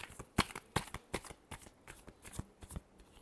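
A deck of tarot cards is riffled and shuffled in a quick, uneven run of crisp, close papery flutters and slaps, with no voices.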